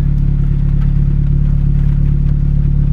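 A turbocharged Honda D16Y7 engine idles steadily and loudly up close, its even low drone holding constant throughout.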